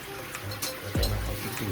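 Tap water runs from a faucet in Japan, a short, steady trickling stream that grows fuller partway through, heard close by with faint background noise.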